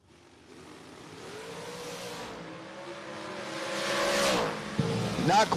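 Drag race cars at a drag strip launching and accelerating away, a rising engine roar that builds in pitch and loudness with a sharp burst near the end, faint announcer-style talk in the background.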